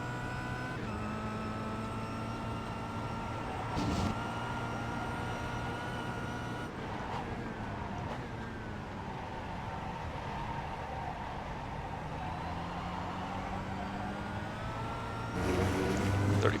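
Kia Optima race car engines in the iRacing sim at Daytona hold a steady, droning roar with a few brief surges as cars run side by side into turn one.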